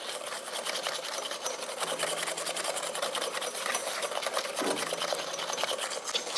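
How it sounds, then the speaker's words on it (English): Sugar and egg yolks whisked together in a bowl in a home kitchen, a steady, fast scraping and rattling rhythm that runs continuously and close up with no talk over it. "we're supposed to whisk our sugar and egg yolks together for 1 minute"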